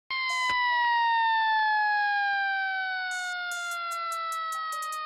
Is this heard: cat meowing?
no